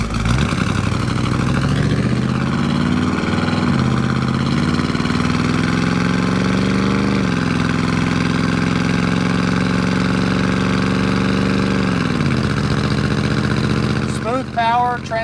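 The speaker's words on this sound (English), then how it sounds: "You're here to listen to this car run and see how it performs" A 1961 Chevrolet Parkwood wagon with a 409 V8 and 700R4 automatic runs steadily, a loud, continuous rumble that rises and falls through shifts while driving, with no talk over it.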